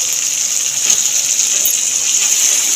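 Water pours steadily into frying masala in a pan for egg curry, a continuous close gushing hiss with a faint sizzle beneath, no voices.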